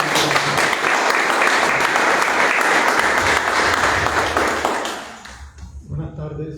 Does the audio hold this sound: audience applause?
yes